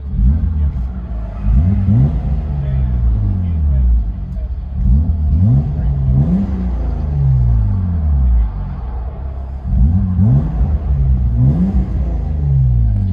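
Cabin view of a 1995 BMW 325i inline-six with a DC Sports stainless steel exhaust: a loud, deep engine drone rising and falling in repeated revving surges, heard from inside the car.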